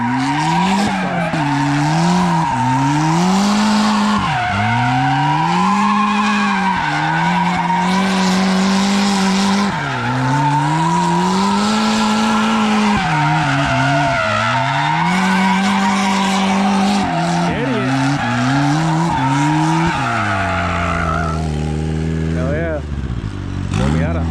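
Nissan S13 drifting on the street with a leaking manifold gasket, its engine revving and wavering loudly with sustained tire squeal and skidding throughout, cutting out near the end; people talk over it.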